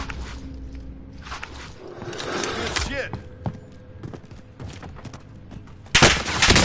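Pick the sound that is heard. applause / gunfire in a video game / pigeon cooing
gunfire in a video game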